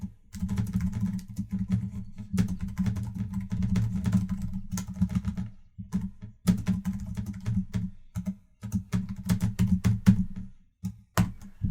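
Brisk typing on a computer keyboard while entering instructions for a Scratch coding project, close and fairly quiet, with bursts of rapid keystrokes broken by short pauses and scattered heavier taps.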